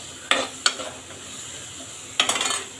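Drumstick pods sautéing in a pan, with a few sharp scraping strokes of a spoon, two early and a cluster near the end, over a faint, steady background sizzle.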